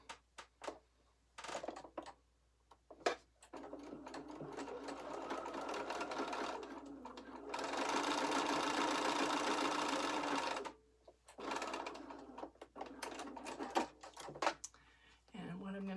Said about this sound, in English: I'm going to take it to my machine, and I'm going to do a 1/4 inch seam